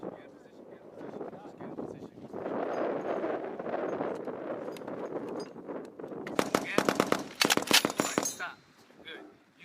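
Machine guns fire at a US Marine Corps regiment's annual training range, with rapid sharp bursts of shots late on, after a stretch of wind and low rumble.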